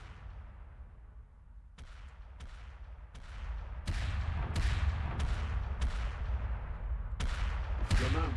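Heavy weapons firing in the base-building video game Era One, a series of sharp blasts in irregular bursts over a low rumbling battle background, growing denser and louder toward the end.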